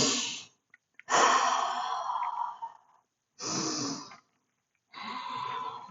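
Slow, deep breaths during a cool-down stretch after a HIIT workout: four long, close airy inhales and exhales with short pauses between them, and no talking.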